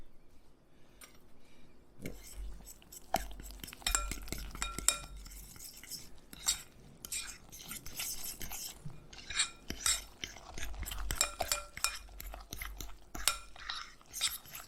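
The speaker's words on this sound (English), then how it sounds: "And we're going to mix this all together." About seven tablespoons of coconut oil get worked into coconut flour batter for keto bread, making repeated scraping clinks and knocks of a utensil against a bowl, irregular and close, after a quiet opening.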